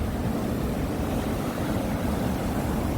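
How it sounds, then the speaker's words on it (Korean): Ocean waves churn and roll near Yeonggeumjeong beside Dongmyeong harbor, a dense, continuous roar of surf and wind buffeting the microphone, loud and steady. "이게 바다 밑 바닥까지 훑어서 예, 올라오는 파도 같습니다"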